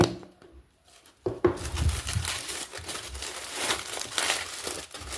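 Aluminium foil wrapping crinkles and crumples as a package is opened, close and fairly loud with steady rustling after a quiet start.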